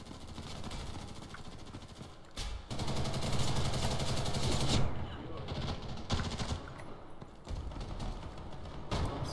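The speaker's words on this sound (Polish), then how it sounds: "Skąd potem strzał?" Bursts of gunfire crackle over a dense, steady soundscape with engine rumble from the video game Ghost in the Shell: First Assault, several sharp shots scattered across the clip.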